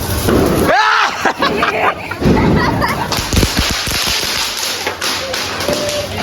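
Diwali firecrackers go off in a street celebration: sharp pops and thuds burst at irregular intervals amid crowd noise and voices, a few loud blasts close by.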